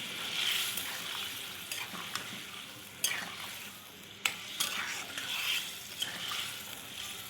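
Bottle gourd koftas are stirred in a pan with a little water, giving a steady soft sizzle and scraping stir with a few sharper clinks of the spoon against the pan, close and continuous with no talk.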